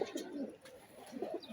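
Pigeons on a rooftop coo in soft, low, throaty bursts, several overlapping calls close by with a faint chirp mixed in.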